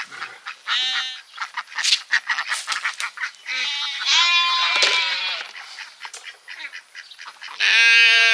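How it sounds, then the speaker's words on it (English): A cluster of loud, nasal honking calls from several birds, like ducks or geese, repeating close by in uneven bursts with no talking. "And we still feed the ducks."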